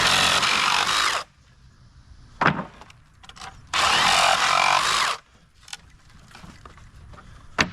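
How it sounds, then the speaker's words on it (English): A Sawzall reciprocating saw cuts through pallet boards in two loud, harsh bursts of about a second each, with quiet pauses and small knocks and clatter between them. "Cut it right down the center. Saves your Sawzall blades."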